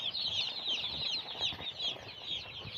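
Hundreds of young broiler chicks crowd under a heater in a poultry shed while being given feed, producing a constant dense chorus of high-pitched peeping with soft rustling beneath.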